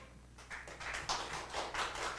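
A church congregation welcomes a pastor with applause during a Sunday service, the clapping rising from near silence into a quiet, steady patter of many hands with no speech over it.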